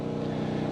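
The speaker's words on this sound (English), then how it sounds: "right now I got a generator running in the background so I can run the skill saw" A generator runs steadily nearby at an off-grid building site, powering a skill saw, giving a constant low engine drone with a regular pulsing hum and no talk.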